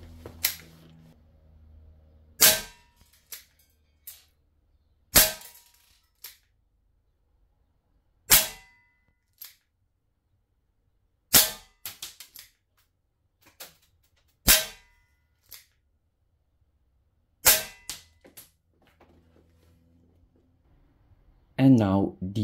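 An airgun firing steel BBs: sharp, isolated cracks spaced a few seconds apart, about eight shots with faint clicks between, close and loud against near silence.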